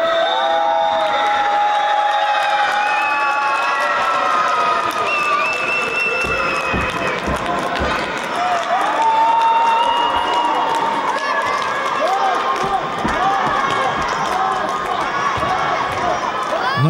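Fans cheer for a youth futsal team at a boys' indoor tournament, a sustained din of shouting and applause echoing through a sports hall, with children's voices and whoops layered over the crowd throughout.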